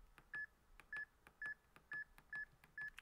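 Six evenly spaced electronic keypad beeps as a phone number is entered on a KIS-8630QN wireless card payment terminal. Each beep is short and clear, with faint clicks between them in a quiet room.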